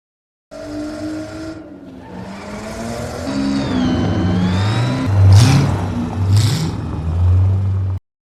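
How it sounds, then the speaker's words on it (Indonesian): A luxury car drives past with a smooth engine whir that rises in pitch as it accelerates, loud and close, with a brief tire squeal toward the end and no talking. "Will membeli sebuah mobil mewah untuk pergi ke rumah keluarga Weiss"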